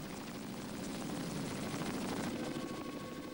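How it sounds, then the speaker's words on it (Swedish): A military rescue helicopter at the Estonia ferry disaster site gives off a continuous, dense rotor and engine roar at steady loudness, with no voices heard. "Det är besättningen vid försvarets 12:e helikopterdivision som just nått fram"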